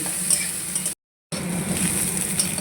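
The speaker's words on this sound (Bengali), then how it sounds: "পেঁয়াজ রসুন আদা যা আছে সবটা একটু সাঁতলে তুলে নেবো ভেজে নেবো" Onion, garlic and ginger sizzle steadily in hot oil, a close, bright frying hiss with occasional stirring, broken by a brief silent gap before the crackle resumes.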